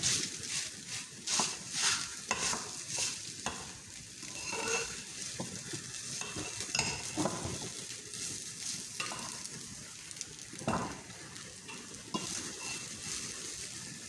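Egg halwa being stirred and scraped from a hot pan into a dish, with a soft continuous sizzle and scraping strokes of a spoon against the metal, close and steady throughout, with no talking.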